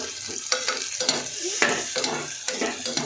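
Chopped onion fries in a pan with a continuous sizzle, broken by repeated scraping strokes of a spoon stirring it close by.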